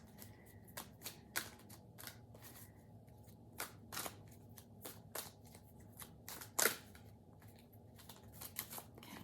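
Tarot cards shuffled and drawn close up, a quiet series of crisp flicks, snaps and papery riffles at an uneven pace over a faint low background hum.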